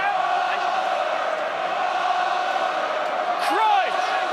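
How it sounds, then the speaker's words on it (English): A rugby crowd at Ravenhill for Ulster against Dragons makes a steady, dense roar throughout, with a brief rising whistle-like tone near the end. "Ravenhill crowd getting behind the men in white"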